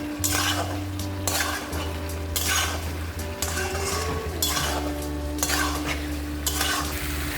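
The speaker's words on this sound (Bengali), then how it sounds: "বেশ অনেকটা কাঁচা লঙ্কা কুচি দিলাম, 1 চামচের মতন চিনি দিয়ে এটাকে আমি ভালো করে ফ্রাই করে নেব।" Ginger, chopped green chilies and sugar fry in a pan while a spoon stirs them, giving repeated bursts of sizzling and scraping in a loose rhythm over a steady low hum, heard up close.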